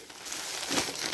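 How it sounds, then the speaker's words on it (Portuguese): A plastic shopping bag crinkles and rustles as it is gathered up, a close, continuous crackling that swells briefly near the end, with no talking. "Aí, depois eu junto essa sacola aqui."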